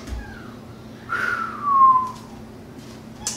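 A person whistles a few short, gliding notes, a rising tone then a longer sliding one, fairly quiet and close, with a soft background hum and no talk.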